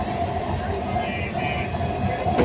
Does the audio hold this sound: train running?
yes